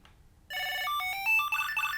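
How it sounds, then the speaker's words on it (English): A Tile Bluetooth tracker attached to a set of keys rings a bright, loud electronic melody of rising and falling tones, starting abruptly after a brief quiet moment. "I'm gonna click on keys and then tap to find your tile."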